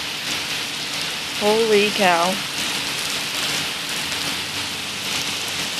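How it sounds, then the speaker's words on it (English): Heavy rain pours down at night in a dense, steady hiss that never lets up, loud and close, while a man briefly exclaims over it partway through. "It is pouring out."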